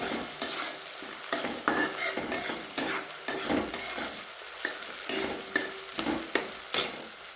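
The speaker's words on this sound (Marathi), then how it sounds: "टमाटो पण चांगला परतून द्यायचा" Tomatoes sautéed in a pan for dhaba-style dal tadka, with regular spatula strokes scraping through a continuous close sizzle, heard alone.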